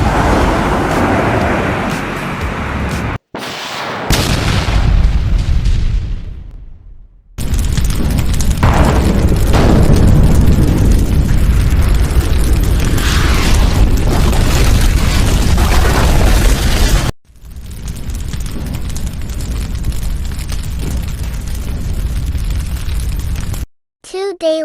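Booming gunfire and explosions from the battle game Free Fire, loud and rumbling, in several sustained stretches separated by brief silent cuts, with heavy low-end blasts and crackling bursts.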